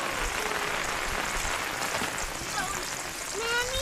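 Heavy rain drums steadily on a tent during a camping trip at Mount Kulis in Tanay, Rizal, heard from inside as a dense, constant hiss with a faint voice briefly underneath.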